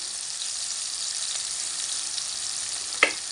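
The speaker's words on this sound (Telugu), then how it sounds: "ఉప్పు వేస్తే తొందరగా ఫ్రై అవుతాయి ఉల్లిపాయలు అనేవి" Onions frying in a pan with salt for a cluster beans curry give a steady, even sizzle with a faint clink near the end.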